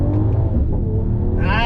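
2021 Mercedes-AMG GT 43 pulling away on throttle, a loud deep engine rumble that climbs into a rising rev near the end, heard from inside the car.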